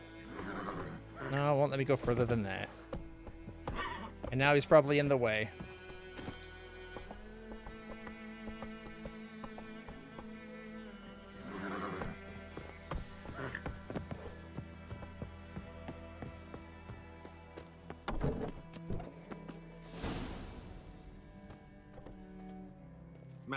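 Roach, the horse in The Witcher 3, neighs repeatedly in whinnying bursts early on, then hooves clop softly under game music while someone talks over it.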